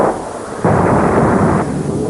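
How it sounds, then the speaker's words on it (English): A torpedo explodes aboard the Kursk nuclear submarine, bursting about halfway down its length beside a critical weld; a dense, loud rumbling roar swells sharply after a moment and keeps booming steadily without any voices. "consistent with the torpedo exploding about halfway down its length"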